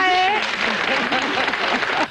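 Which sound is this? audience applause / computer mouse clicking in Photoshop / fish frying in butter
audience applause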